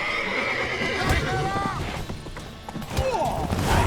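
A horse in the video game Witcher 3 whinnies loudly in descending wavering calls, then again, with hooves clopping and a voice speaking over it.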